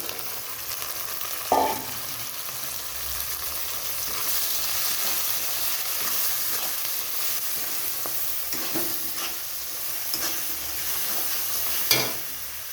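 Small crabs coated in salt and turmeric fry in a pan with ground Kashmiri chilli and cumin, giving a continuous hiss and crackle broken by a few louder scrapes and clinks of stirring, no one speaking.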